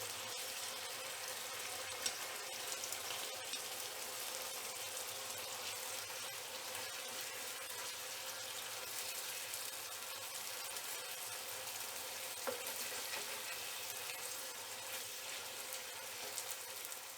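Schezwan fried rice with sauce cooks in a pan over medium heat, giving a steady, soft hiss-like sizzle that runs evenly throughout with a few tiny clicks and no talking.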